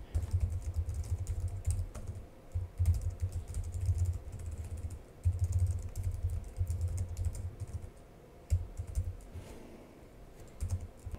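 Fingers type quickly on the keyboard of a Gigabyte G5 gaming laptop with an RTX 4060, giving close, soft clicking in bursts with short pauses between runs of keystrokes.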